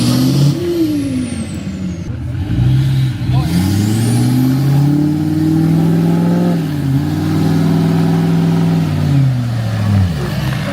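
A stuck pickup truck's engine revs repeatedly in loud, rising and falling surges while one tire sits in a muddy rut, and people talk over it.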